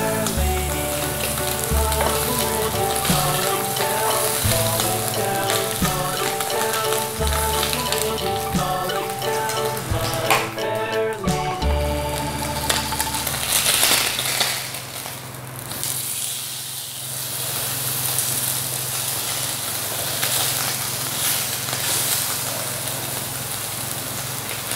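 Pork frying in a pan and being seasoned with salt as a drinking snack, giving a steady close sizzle that runs under tonal background music and grows rougher and more prominent in the second half.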